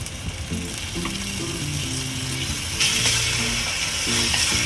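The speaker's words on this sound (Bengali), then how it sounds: "এই 3টে আদা রসুন আর পেঁয়াজকে একসঙ্গে ভাজছি, এটাও কিছুক্ষণ ভাজবো।" Ginger, garlic and onion fry together in oil over a medium flame for papaya chicken, giving a steady close sizzle with light scraping clinks of a spoon against the pan, no voices.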